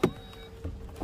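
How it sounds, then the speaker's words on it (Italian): Powered tailgate of a 2019 VW Tiguan R-Line opening at the touch of a button, with a short motor whir, a soft thunk at the start, and quieter mechanical clicks as it moves, close by. "andiamo ad aprire il baule"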